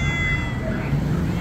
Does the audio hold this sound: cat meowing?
yes